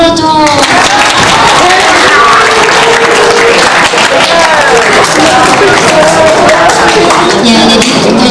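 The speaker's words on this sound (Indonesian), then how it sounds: "Tepuk tangan dulu tuh." A crowd claps continuously in a dense wash of applause, with voices mixed in underneath throughout.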